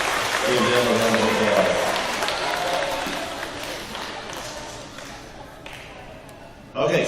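An audience's applause, dense clapping that gradually thins and softens over several seconds, with voices talking beneath it and a louder sound at the very end.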